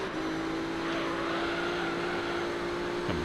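Race car engine in Gran Turismo 3 holding a steady loud drone through a final corner, with a brief pitch drop near the end as it shifts or brakes; no talking.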